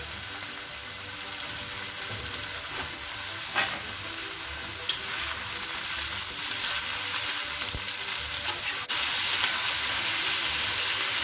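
Potatoes fry in a pan with steady close-up sizzling and hissing, broken by a few scraping stirs of a utensil, all continuous with no voices.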